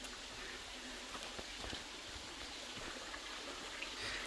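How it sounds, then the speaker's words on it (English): A small waterfall stream on a bush walking track in the Blue Mountains gives a steady, soft wash of trickling water, faint and continuous with no voices. "the waterfall that is on this track"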